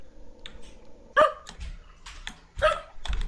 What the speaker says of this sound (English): What's it barking at?